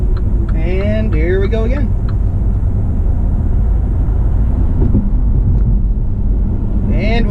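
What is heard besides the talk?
MINI Countryman hybrid car driving up the road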